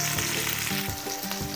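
Okra (bhindi) frying in a pan, a loud, dense close sizzle with quick stirring knocks.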